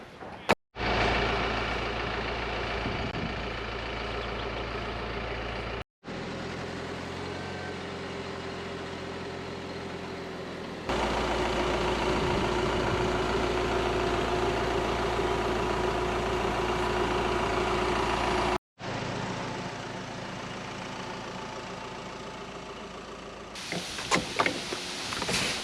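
A tractor engine idles steadily at a vineyard during trellis work, a constant low rumbling drone close by, broken by a few brief cuts and a louder stretch midway, ending with some clatter.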